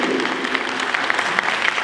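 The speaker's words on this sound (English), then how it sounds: "can you give a round of applause to a huge team that has been built to serve you?" An audience gives a round of applause for a team at a live event, a steady dense wash of clapping across the whole stretch with scattered louder individual claps.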